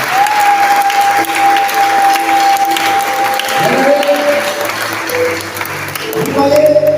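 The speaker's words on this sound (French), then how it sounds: "est-ce qu'on peut donner des acclamations au Seigneur?" A church congregation claps and cheers in praise, dense sustained applause filling the room while voices call out and a sustained tone rises above it.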